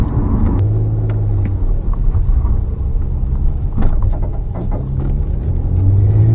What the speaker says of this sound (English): we've got a bit of a raughtiness from the exhaust, but we're driving a V6